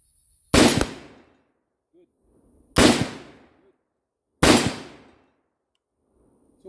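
An AR47 rifle fires three sharp, loud shots, spaced about two seconds apart, each with a short ringing decay, and faint low background noise sits between them.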